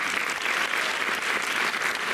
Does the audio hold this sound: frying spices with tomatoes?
no